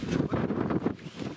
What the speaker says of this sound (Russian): у нас тут ветер